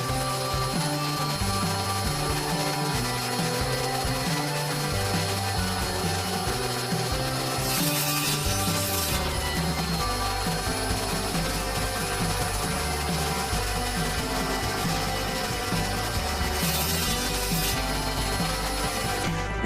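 A saw cuts through oak for a cradle, making a steady, continuous rasping that runs unbroken and fairly loud, with brief brighter bursts of scraping along the way.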